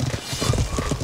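A lancer's horse clip-clops in quick, steady hoofbeats during a medieval PvP battle in the game Life is Feudal, close and moderately loud on its own.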